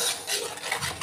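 A spoon scrapes and stirs drumstick and egg curry in a pan, a close, soft rasping with faint sizzle, brief and without voices.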